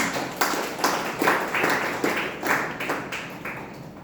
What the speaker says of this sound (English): Please give a big round of applause for the members.